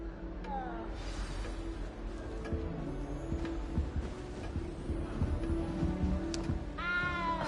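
A cat in the Hogwarts Legacy castle gives a few drawn-out meows, one near the start and another near the end, over a low ambient game soundscape.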